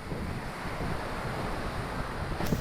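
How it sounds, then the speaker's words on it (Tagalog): Strong surf and gusting wind from a typhoon fill the whole stretch, a steady broadband roar with a louder gust or wave burst near the end. "sobrang lakas ng alon"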